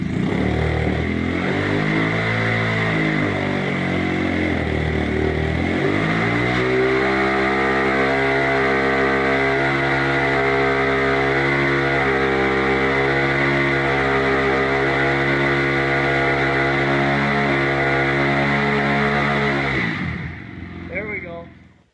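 A mini chopper motorcycle engine with newly fitted exhaust pipes starts for the first time at midnight, roaring loud and close as it revs up, then settles into a steady droning idle before cutting off.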